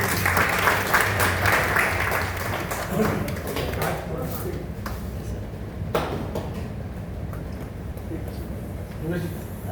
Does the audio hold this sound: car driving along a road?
no